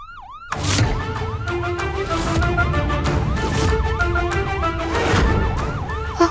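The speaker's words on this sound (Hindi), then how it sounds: "एक मिनट, इट्स सायरन।" A police or ambulance siren wails in a steady, loud rising-and-falling cycle, starting abruptly after a brief pause and continuing throughout over a dense, busy background.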